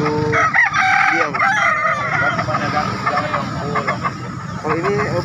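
Roosters crow repeatedly, with clucking fowl around them, at the Daya chicken market in Makassar, several overlapping crows mixed with crowd chatter and market bustle.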